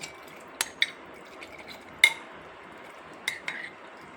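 Quiet scraping with a few sharp metallic clinks and taps, like a spoon working green gram paniyaram batter out of a bowl into a mixer jar.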